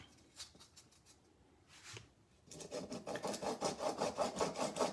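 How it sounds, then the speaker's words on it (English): Light, rhythmic sanding strokes rasp back and forth across hardened Bondo filler on a 3D-printed truck roof cap, a few scattered scrapes first, then a steady quick series of passes. "Again, lightly sanding, lightly."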